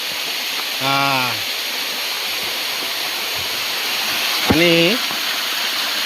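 A river running full of water near a village rushes in a steady, loud broadband wash throughout, with short bursts of talking over it.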